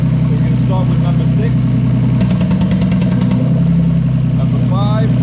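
A Toyota 2JZ-GE VVT-i straight-six idles steadily while injectors and coils are unplugged one by one, the engine note shifting midway, with a person talking over the running motor throughout.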